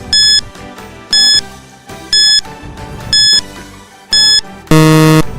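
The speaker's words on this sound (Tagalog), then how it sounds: "Timer starts now." Quiz countdown timer beeping: six loud, evenly spaced electronic beeps about once a second, the last one longer and fuller as the time runs out, with a soft music bed underneath.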